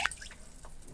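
Vinegar being poured to make a quick pickle brine for cucumbers, a short splashing drip and trickle of liquid lasting about a second, close and fairly quiet.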